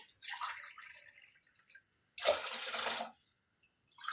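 Four glasses of water are poured into a pan for jaggery rava kesari in two bursts, a longer splashy pour followed by a shorter, stronger one, with a quiet gap between.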